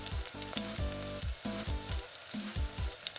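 Chicken pieces frying in hot oil for chili chicken, a steady close sizzle with repeated clanks and scrapes of the pieces being turned in the pan, and no talking.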